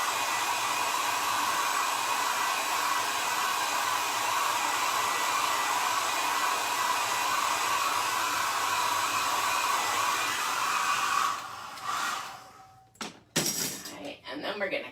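A heat gun blasts hot air onto a floral transfer laid on a faux wood plank furniture top, giving a loud, steady whir for about eleven seconds before it cuts out among clinks and handling noises.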